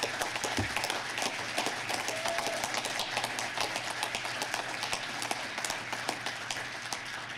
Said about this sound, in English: please, first of all, give them a round of applause here